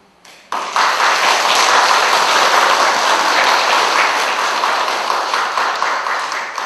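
An audience at a Buddhist dharma service at a temple in Jindo breaks into sudden sustained applause, loud and dense, slowly fading toward the end.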